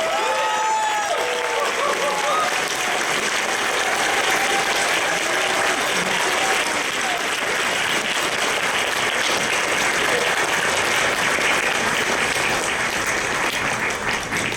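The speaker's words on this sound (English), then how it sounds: "One more round of applause for Thornwing" A large crowd at a convention closing ceremony applauds in a dense, sustained roar of clapping and some cheering, staying loud and steady throughout, with a few voices mixed in.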